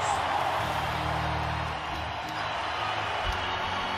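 A Buffalo hockey arena crowd during a playoff game roars in a steady, dense wash of cheering, with a commentator talking over the noise.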